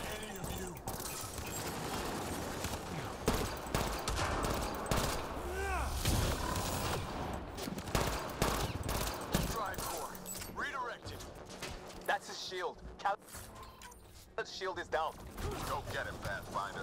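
Pistol gunfire in the video game Mass Effect Andromeda, a series of sharp shots scattered among other combat noise and effects, with a voice talking over much of it.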